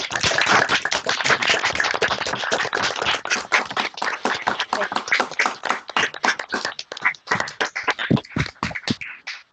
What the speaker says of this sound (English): give Mark a round of applause for his brilliant session